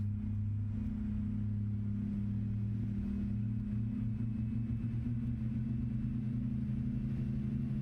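In Microsoft Flight Simulator, the iniBuilds A310 jet engines hum and roar with a steady low drone that holds evenly throughout, moderately quiet and without speech.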